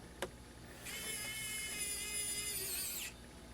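A small AM Arrowmax precision electric screwdriver whirs with a thin, high whine for about two seconds while driving a screw, after a brief click, all close and quiet.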